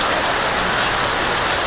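Heavy rain pounds steadily on a vehicle with a torn roof, a loud, dense hiss that holds without a break for the whole moment.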